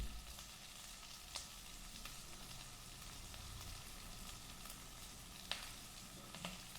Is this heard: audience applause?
no